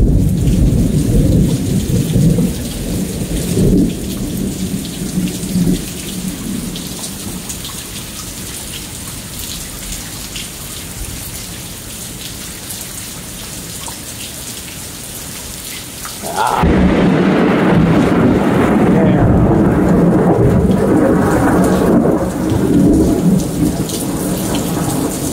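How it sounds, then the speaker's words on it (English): A major lightning storm over Lufkin, Texas: steady heavy rain hisses throughout, then a sudden loud thunderclap breaks in and a deep rumble rolls on beneath the downpour, with no voices. "This is crazy lightning."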